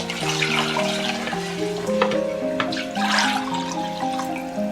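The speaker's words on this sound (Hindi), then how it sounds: "ये 4 गिलास पानी इसी के साथ ऐड करेंगे।" Four glasses of water are poured into a yogurt and gram flour curry in a home kitchen, giving a continuous splashing pour partly masked by melodic background music.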